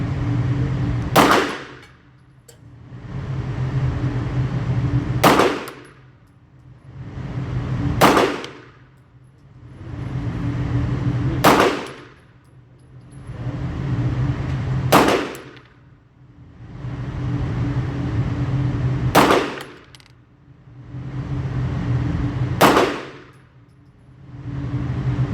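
Gunfire from a Staccato P and a Bul Armory SAS2 Tac Govt pistol rings off steel targets, a slow regular series of about seven loud sharp cracks, each followed by a metallic clang.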